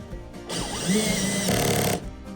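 A power drill driving a fastener into EMT conduit, one sustained whirring run of about a second and a half that bogs down slightly as the fastener tightens, close and loud with no talking.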